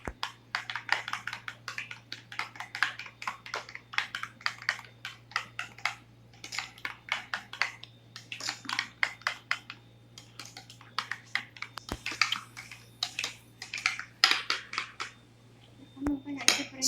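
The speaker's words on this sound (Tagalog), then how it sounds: "paghaluin lang natin yan siyang mabuti hanggang magpantay yung yogurt at saka" Yogurt and ranch dressing sauce stirred together in a bowl, giving repeated soft clinks and scrapes of a utensil in irregular bursts, with a low background hum.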